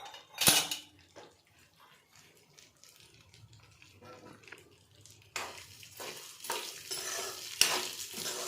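Urad dal roasting in a pan while being stirred: scraping and rattling stir strokes with a soft sizzle, a sharp clink of a utensil early on, and busier stirring in the second half, close and fairly quiet.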